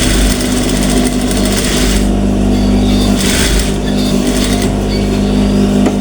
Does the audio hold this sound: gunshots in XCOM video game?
no